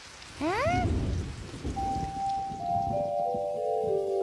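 Steady rain falls with a low rumble of thunder, while a rising whistle-like tone and then sustained musical notes sound over it.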